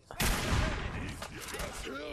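An explosion in the video game Fallout 4 starts with a sharp, loud burst and trails off into a rumbling decay, with a voice talking over it faintly.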